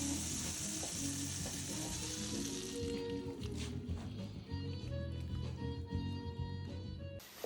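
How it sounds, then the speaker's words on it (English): Eggs frying in sizzling butter in a pan, a close, continuous crackle and hiss with faint stirring and scraping, no talking. "The butter is sizzling here."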